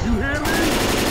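Rapid gunfire aimed at the Tank in Left 4 Dead 2, a dense, loud burst running the whole moment, with a brief shouted voice at its start.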